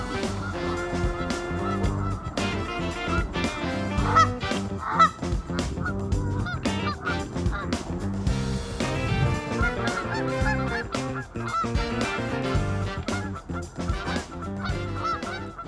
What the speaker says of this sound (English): We've got a huge flock of geese here on this little retention pond in this business park.